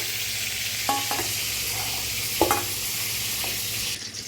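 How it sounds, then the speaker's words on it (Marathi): Brinjal roasting in a hot pan with a steady sizzle throughout, broken by a few sharp scraping clinks of a spoon stirring the pieces, close and fairly loud. "मस्त बघा हलवून छान अशी वांगी भाजून घेतली"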